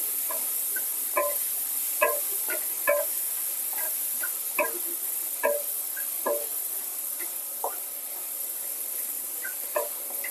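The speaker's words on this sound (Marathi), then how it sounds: "लसूण फ्राय झालेला आहे" Garlic fries in a pan, giving a steady hiss broken by scattered sharp pops and crackles every half second or so, close and even in level.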